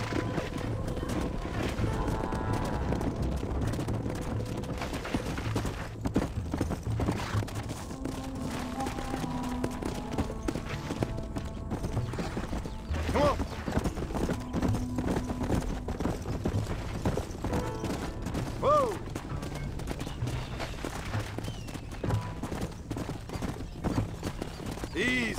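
Horse hooves gallop in Red Dead Redemption Remastered, a steady, fast clip-clop running throughout with occasional neighs and voices talking over the ride.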